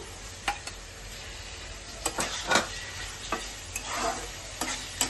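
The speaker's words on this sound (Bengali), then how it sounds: "তো এর মধ্যে আমি চিংড়ি মাছটা দিয়ে দিচ্ছি এবারে।" Shrimp are stirred into mashed banana flower frying in a pan. A quiet, steady sizzle sits under sparse, sharp scrapes and taps from the utensil.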